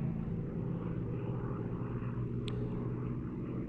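A Hispano Buchon, the Spanish-built Messerschmitt 109 variant, flies at the Old Buckenham airshow with its steady distant engine drone, faint and continuous throughout.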